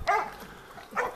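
Hunting dogs at a bailed boar, two close, sharp barks about a second apart from a dog holding a wild pig at bay outdoors.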